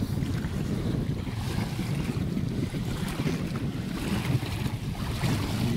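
Steady, loud wind roaring across the microphone at an open seaside spot, with a broad wash of sea noise underneath, continuous with no breaks.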